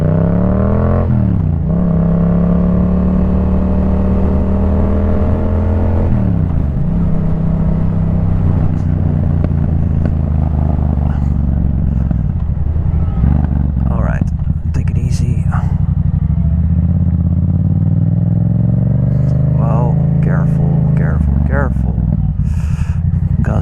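Riding a 2024 Yamaha MT-07 motorcycle: a steady engine drone rises and falls in pitch as the throttle opens and eases, with wind rush and a voice talking over it.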